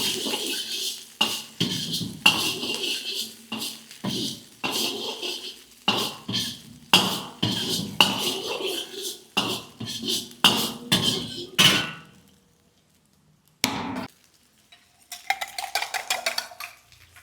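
Egg chicken fried rice is tossed and stirred in a pan, with rapid, repeated metallic scrapes and clanks of a spatula against the pan, then a pause and lighter clinks.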